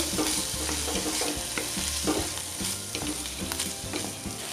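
Boiled potato pieces are stirred into a spiced taco filling in a hot pan, with a continuous crackling sizzle and repeated scraping strokes over a low steady tone.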